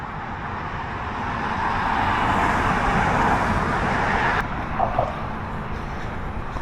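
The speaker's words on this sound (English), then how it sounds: "We'll see some of the cars coming this way." Steady traffic roar from cars passing on a road near the Detroit River, a broad whooshing wash that swells and fades, with a sharp shift partway through as a vehicle goes by.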